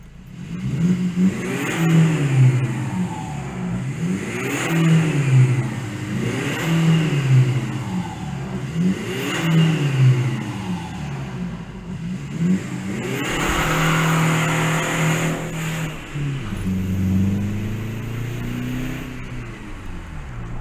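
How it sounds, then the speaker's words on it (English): Car engine revving repeatedly inside a road tunnel, loud rising and falling revs in a steady series of about five pulls, echoing off the walls, followed by a longer sustained high rev and then a drop back down. "You can't go through a tunnel and not rev, can you?"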